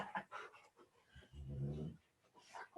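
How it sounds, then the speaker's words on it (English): Soft, close growling from a small animal, likely an alpaca or sloth, in a low rumbling burst lasting about half a second, with quiet breathy sounds around it and a person speaking gently nearby. "Don't you growl at me."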